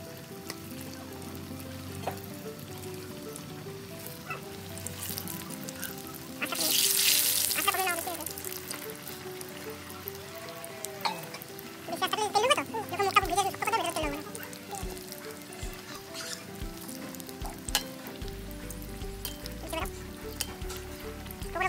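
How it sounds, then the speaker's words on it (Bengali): Chicken pakoras deep-frying a second time in hot oil, a low, steady sizzle that swells into louder bursts of bubbling and crackling when the pieces go in, then settles back. "এবার আমি দ্বিতীয়বার ভেজে নেব। তেলও গরম হয়ে গেছে, এবার ছেড়ে দেবো। আস্তে আস্তে ভেজে নেবো আমি।"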